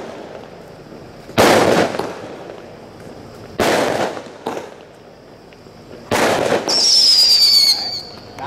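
Vietnamese pig firecrackers go off in four loud, sharp bursts spaced a second or two apart, the last with a shrill rising whistle trailing after it, with no voices.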